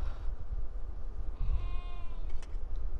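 Churro sheep on a ranch in the video game Beyond Two Souls give a single clear bleat over a low rumbling ambient background, with no talking.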